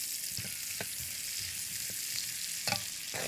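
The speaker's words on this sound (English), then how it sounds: "So you fry this up." Ginger pieces and diced onion sizzle in hot oil at the start of a Chinese-style tomato sauce, a steady close hiss broken by a few quick stirring scrapes.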